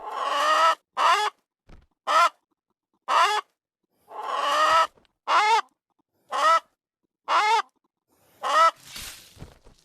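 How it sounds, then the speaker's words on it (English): A chicken spawned in the video game Blade and Sorcery clucks in a series of about ten short, loud, close bursts separated by silent gaps, with faint clatter at the end. "You can spawn a chicken if you want to."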